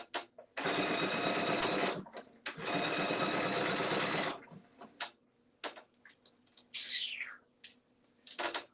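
A sewing machine runs in two long bursts stitching knit fabric for a custom cup dress, then stops, followed by scattered small clicks, fabric handling noises and a brief high squeak.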